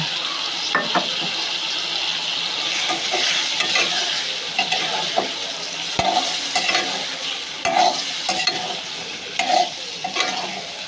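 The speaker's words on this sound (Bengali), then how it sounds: "তার মধ্যে কেটে রাখা মাছগুলো দিয়ে দেব।" Cut pieces of fish fry and are stirred in a spice paste, giving a soft, continuous sizzle broken by scraping utensil strokes and occasional clinks against the pan, all close and with no talk.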